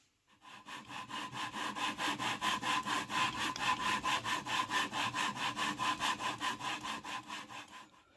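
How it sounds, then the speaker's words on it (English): Steel scope rings from a Model 70 Extreme Weather rifle being lapped, a steady rhythmic back-and-forth rasping of roughly three strokes per second, close and loud, lasting throughout. "So let's get to lapping these rings."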